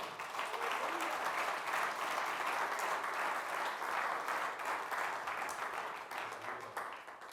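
A church congregation applauds during a Sunday service, with sustained, even clapping from many hands that stays steady, then tapers slightly at the end.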